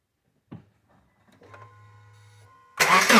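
A 2005 Subaru Outback engine starting after timing belt replacement: quiet clicks and a whirring starter crank, then the engine catches with a sudden loud, sustained roar.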